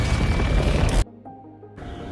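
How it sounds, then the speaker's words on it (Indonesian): The Medusa weapon explodes in the film Mortal Engines as a dense, loud roaring boom that cuts off abruptly into near silence with low ringing, then a quieter rumble returns. "Valentine terluka cukup parah dan terjatuh ke dalam senjata Medusa dan meledak bersamanya"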